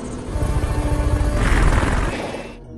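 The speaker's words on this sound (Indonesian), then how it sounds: "Ketika helikopter itu akan terbang," A helicopter in the action film 12 Rounds, preparing to take off: a loud, steady rotor thrum and engine whine that swells slightly mid-way and then cuts off, with no voices over it.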